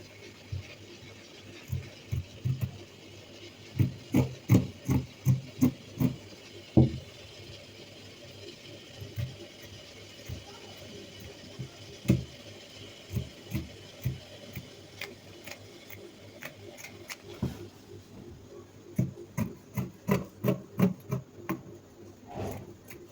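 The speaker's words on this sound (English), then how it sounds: "now you're just going to go ahead to trim around it." Scissors snip around stretchy fabric in short rhythmic bursts of close, crisp clicks, with pauses between runs of cuts and no talking.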